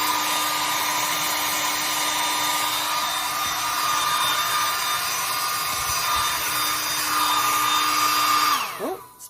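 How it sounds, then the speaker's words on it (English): Blow dryer drying paint on a decoupage tin can, a loud steady whirring hum held for several seconds before cutting off abruptly at the end. "at least with the blow dryer, you know you're not going to bubble your paint"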